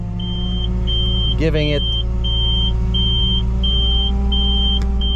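A hook lift dumpster truck engine runs steadily at low revs, rising slightly with a little throttle, while a repeating electronic beep sounds throughout and someone speaks briefly over it.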